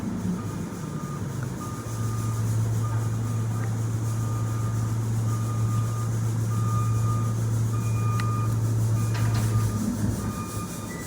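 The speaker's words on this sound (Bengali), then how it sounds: "গাড়িটা ব্যাক করছে সোজা যাবে তাই" A garbage truck reverses on a residential street, its beeper sounding evenly spaced, regular pulses over a steady, close engine rumble that swells and then eases.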